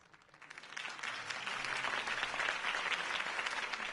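Crowd applause following a campaign speech by Harvey Dent, a dense wash of many hands clapping that swells in the first second and then holds steady and loud, with no speech over it.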